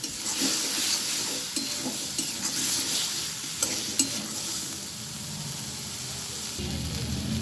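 A spice paste with turmeric fries and gets stirred in a pan for a Bengali fish curry with cauliflower and potato: a steady, close hiss of sizzling oil broken by frequent scraping strokes of the spoon, with no voices.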